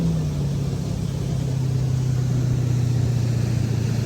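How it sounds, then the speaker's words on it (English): The V8 engine of a Nautique 210 ski boat cruises on a lake, giving a steady, low droning hum with water and wind rush over it and no talking. "That V8 sounds great too."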